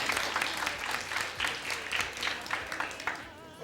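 Guests at an engagement celebration give a round of applause, steady mid-level clapping from a roomful of people that tapers off toward the end, without talk.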